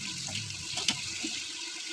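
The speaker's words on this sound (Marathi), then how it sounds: "त्याच्यानंतर आपण त्यात गरम पाणी टाकणार आहोत" Hot water pours into a pot of village-style mutton curry, a soft, continuous splashing stream with one brief brighter splash partway through.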